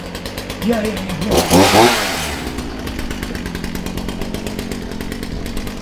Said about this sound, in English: I got a chainsaw and I'm not afraid to use it.